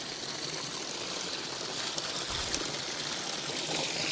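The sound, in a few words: water flowing over koi pond waterfall rocks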